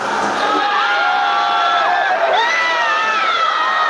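Stadium crowd at a Sudurpaschim versus Pokhara cricket match cheers after a six, a continuous roar of many voices with shrill whistles and whoops rising over it, loud and steady throughout.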